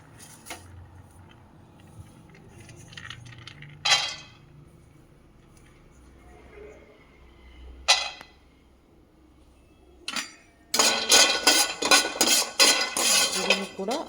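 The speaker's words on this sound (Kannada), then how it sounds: "ಮೊದಲಿಗೆ ಬಾದಾಮಿ ಹಾಕ್ತಾಯಿದ್ದೀನಿ, ಬಾದಾಮಿ ನಂತರ ಗೋಡಂಬಿ, ಆಮೇಲೆ ಕಡಲೆ ಬೀಜ," Almonds, cashews and peanuts drop into a pan as a few separate rattling clatters, then a longer burst of rapid, close rattling.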